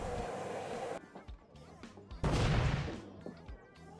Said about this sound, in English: The explosion has my ears ringing